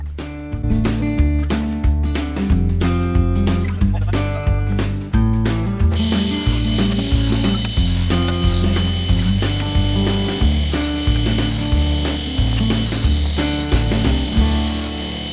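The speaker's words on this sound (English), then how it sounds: "here I am now getting on to cutting all the wedges" A power saw cuts small wooden wedges guided by an Osgood miter gauge, giving a steady, loud cutting whine that brightens partway through, set against a rhythmic, pulsing backing.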